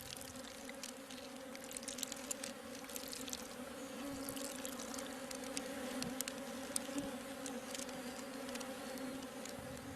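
Honey bees buzz inside a hive in a dense, steady drone, close and continuous, with faint trickling sounds underneath.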